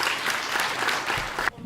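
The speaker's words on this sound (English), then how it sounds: "We can all give Ryan a big round of applause for the great job." A hall audience applauds at the end of a talk on rapid ohia death and hooved animals. The clapping is steady and dense for about a second and a half, then stops abruptly.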